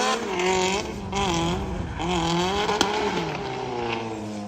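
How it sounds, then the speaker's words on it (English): A drift car at a Cyprus Drift Championship practice round revs hard with repeated clutch kicks, the engine note surging and dipping in rapid waves, loud and close, with a brief sharp click partway through. "It sounds like he's clutch kicking the car a lot, especially in this area here."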